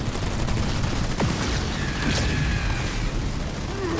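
Dense, continuous gunfire and booming blasts from a Halo Wars 2 battle on Xbox One roll on without pause, loud and layered, with faint tonal game effects above the barrage.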